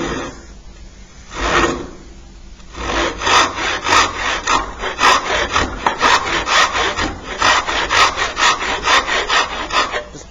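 A hand saw cuts a trench in wood for a pot stand with loud, close back-and-forth strokes. A short burst comes first, then a brief pause, then a long steady run of rhythmic rasping strokes.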